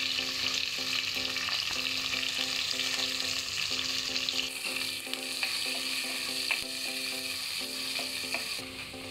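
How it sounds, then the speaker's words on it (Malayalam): Green chillies, ginger and garlic frying in oil in a pan for green apple pickle, a steady bright sizzle with occasional stirring clicks over faint background music, no voices. "ഇതിനകത്തോട്ട് 4 പച്ചമുളക്, 1 ടേബിൾ സ്പൂൺ ജിഞ്ചർ ഇഞ്ചി, 3 ടേബിൾ സ്പൂൺ ഗാർലിക് ഇത്രയും ആഡ് ചെയ്ത് കൊടുക്കുക."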